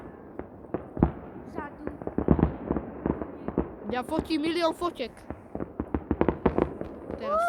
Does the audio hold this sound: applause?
no